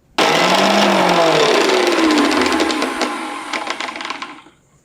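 A mixer grinder crushes green chillies and ginger into a coarse thecha, its motor starting abruptly and whirring loudly and steadily for a few seconds with a sliding pitch before winding down and stopping.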